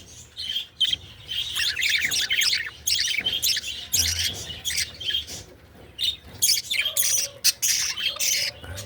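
Lutino breeder birds in a cage give rapid chirps and squawks, a dense, continuous chatter of overlapping calls close by with no voices.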